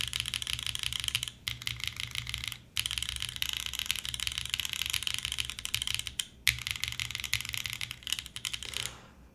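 A mechanical keyboard spacebar fitted with Cherry stabilizers is tapped in fast, clacky bursts, close and crisp, with a few short pauses between runs of strokes.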